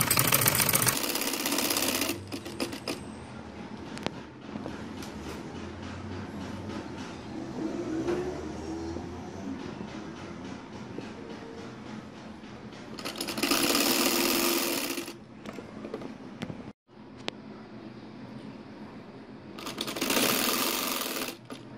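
A sewing machine stitches a folded net trim onto a poncha trouser hem, running in loud, fast-whirring bursts with quieter, slower passages and short pauses between.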